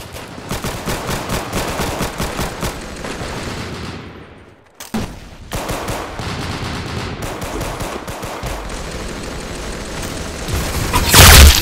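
Rapid automatic gunfire rattles in Roblox Arsenal, dense bursts of loud close shots that break off briefly into a pause, then resume and swell into heavier firing at the end.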